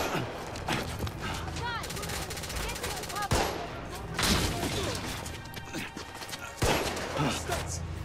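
Gunfire during a firefight in The Order 1886 video game, dense bursts of machine-gun fire and sharp shots with crashing impacts, loud and near, with game voices shouting over the battle.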